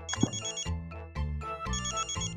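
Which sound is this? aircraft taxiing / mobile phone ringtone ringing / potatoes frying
mobile phone ringtone ringing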